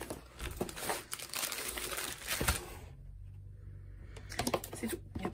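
Close, crisp crinkling and rustling of wrapping as an unboxing package holding two canvases from Dreamer Designs is opened. The sound comes in irregular bursts with a brief quieter lull in the middle.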